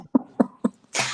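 A person coughs three times in quick, close succession, then lets out a harsher, breathier burst, loud and with no talk over it.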